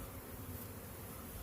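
A honeybee swarm with its mated queen, buzzing and fanning in a steady, soft, continuous drone that stays even throughout without pauses.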